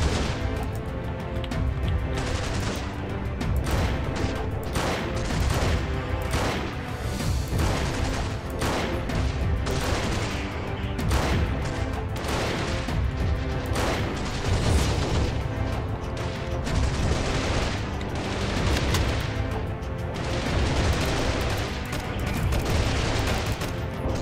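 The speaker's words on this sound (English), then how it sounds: "it just sounds like a plain assault rifle" In Freeman: Guerrilla Warfare, assault rifles fire in a dense, continuous battle. Overlapping bursts and booms stay loud and close throughout, with no clear gap.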